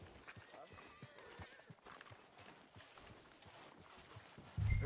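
Horse hooves clip-clop at a steady walking rhythm on a Red Dead Redemption 2 street, moderately close, with faint background ambience and a brief thump at the end.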